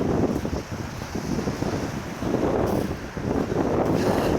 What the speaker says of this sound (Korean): 파도가 아주 장난이 아닙니다